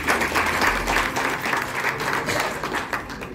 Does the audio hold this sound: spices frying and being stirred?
no